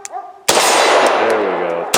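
A Beretta M9A3 pistol fires a single loud double-action shot at close range, with a sharp crack that rings out and decays over about a second and a half.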